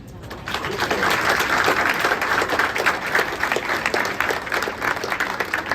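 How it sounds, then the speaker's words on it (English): An audience applauds at a room dedication ceremony honoring a company figure, sustained dense clapping from many hands, fairly close and steady, fading slightly toward the end. "We applaud you for your unwavering guidance and contributions to the success of this company"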